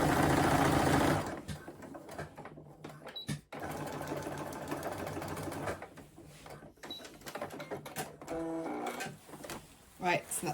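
A domestic sewing machine stitches two lining edges of a crossbody bag together in several runs of rapid mechanical whirring, starting and stopping between pauses, close and loud.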